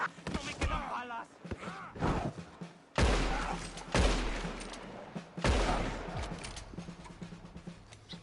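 Gunfire in Red Dead Redemption II: three heavy, booming shots spaced a few seconds apart, each with a long echoing tail, loud and close, with voices talking in between.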